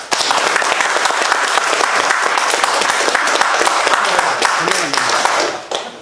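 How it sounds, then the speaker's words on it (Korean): An audience at a Korean Lent lecture gives a loud, steady round of applause for the guest speakers, sustained clapping throughout that tapers off at the very end. "다시 한번 큰 박수 부탁드리겠습니다"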